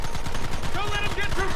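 Sustained gunfire in the Western game Red Dead Redemption, a continuous loud clatter of shots with voices shouting over it.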